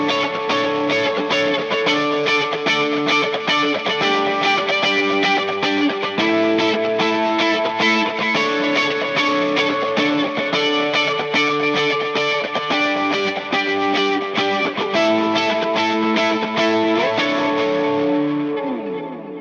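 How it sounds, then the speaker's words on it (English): Electric guitar playing a repeating melodic line drenched in delay and chorus, shimmering echoes trailing each note, steady and loud throughout with no voices. "Just let the delays and chorus play the main part."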